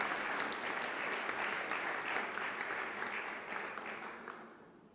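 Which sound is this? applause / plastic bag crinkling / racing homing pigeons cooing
applause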